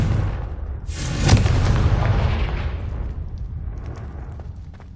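A Confringo fire spell in Hogwarts Legacy bursts with a sharp crack and a heavy, booming explosion that rumbles and fades over several seconds.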